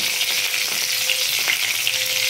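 Bay leaves, a dried chilli and cardamom sizzle in a little hot oil, a bright, continuous crackling hiss close by with small pops, and no voices.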